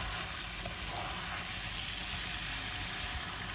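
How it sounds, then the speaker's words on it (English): Garlic butter shrimp with lemon juice simmering in a pan gives a steady, even sizzle and bubbling hiss that carries on unbroken at moderate loudness. "Let it simmer for about 30 seconds."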